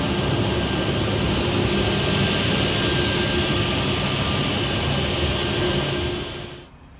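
A VTM VantEdge 3.5 automatic edgebander with EVA hotmelt glue running, a loud steady industrial roar and hum close by that winds down and fades near the end.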